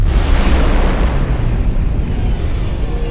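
A loud, sustained blast of broadband rumble that slowly decays, like a big explosion rolling out over a few seconds.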